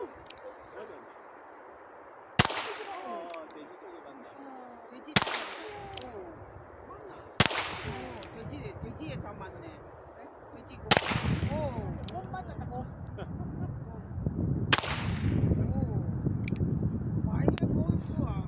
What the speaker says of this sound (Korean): 일단 사격 한번 해보겠습니다